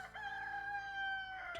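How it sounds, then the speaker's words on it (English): A rooster crows once, a drawn-out, wavering call heard at low level from some distance, standing alone with no talk over it. "The fucking rooster."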